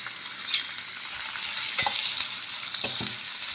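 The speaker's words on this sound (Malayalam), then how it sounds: "പച്ചമുളക് ഇഞ്ചി കറിവേപ്പില ഇത് നാലൊന്ന് വഴറ്റാം" Green chilli, ginger and curry leaves sizzle in a hot pan as they are sautéed, a steady bright crackle broken by a few soft scrapes of stirring, close up with no talk.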